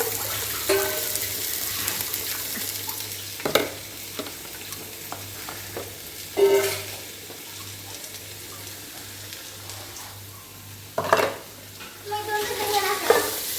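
Onions sizzle steadily in a hot pan with fried prawns for prawn biryani, with a few louder scraping and stirring clatters breaking through the frying hiss.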